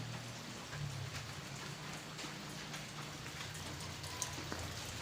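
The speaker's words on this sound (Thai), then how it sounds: "ฝนตก" Steady rain falls outdoors, a dense, even patter of drops on surfaces that continues throughout, with a soft low rumble underneath and a brief louder knock at the very end.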